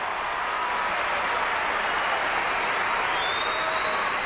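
Crowd applauding at a US Open tennis match, a steady dense wash of clapping filling the whole stretch with no break.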